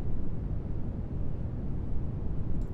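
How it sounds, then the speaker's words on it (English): Synthesized noise passed through a bandpass filter, a steady low rushing hiss resembling a distant ocean, continuous and unbroken throughout. "noise filtered by our bandpass filter"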